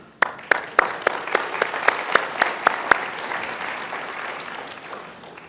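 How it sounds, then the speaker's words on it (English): Audience applause at a conference session, a wash of clapping from a crowd with a few sharper claps standing out early on, steady then slowly fading toward the end. No one speaks. "I want to actually stop and applaud you at this point"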